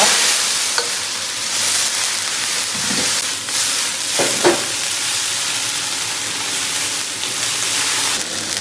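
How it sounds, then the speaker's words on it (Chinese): Bean sprouts stir-fried in hot oil seasoned with Sichuan peppercorns and chili give a steady loud sizzle and hiss, with a few scraping stirs of the spatula breaking through, no voices. "咱炒一下豆芽，下入豆芽"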